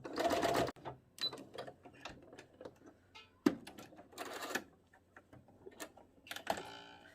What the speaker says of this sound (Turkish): Şimdi makinede dikime geçiyorum. Şöyle çizdiğim çizginin tam üzerinden dikiyorum.